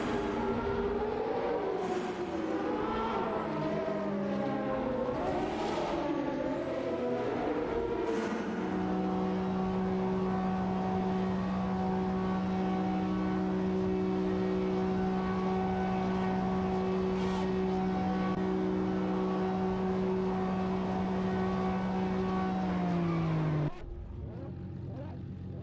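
Race cars accelerating through the final sector, with whining engine notes that swoop up and down in pitch before settling into a loud, sustained drone that cuts off abruptly near the end.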